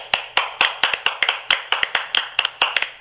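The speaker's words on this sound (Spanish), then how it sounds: "Hay que dar un aplauso a Rueda" Steady, evenly paced hand clapping for a coach at a Honduran gathering: about a dozen crisp, close claps in a regular rhythm over three seconds, with no talk.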